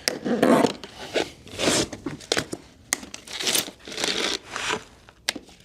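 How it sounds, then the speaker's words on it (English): Clippers snip zip ties off e-bike packaging amid busy crinkling and rustling of plastic and cardboard, with sharp clicks and tearing sounds coming in irregular bursts close up. "Now we use these clippers to clip all these zip ties off."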